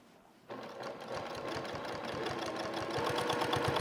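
Sewing machine stitching a pinned quilted bog coat at stitch length 2.0: after a brief pause the motor starts, running a fast, even needle rhythm that grows slightly louder, close and alone.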